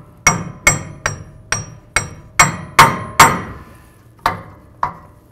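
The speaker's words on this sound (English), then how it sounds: "I'm just gonna use a hammer and I'm gonna try to bonk right along this ridge and just try to pull out the axle a little bit" A hammer bangs metal again and again on the axle ridge of a 2017-or-later Ford F-350 dually rear axle, about ten sharp, ringing blows at a steady rhythm, close and loud, with no talk.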